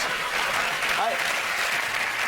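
A studio audience on a comedy panel show bursts into steady, dense applause that holds for a couple of seconds, with a voice speaking briefly over it.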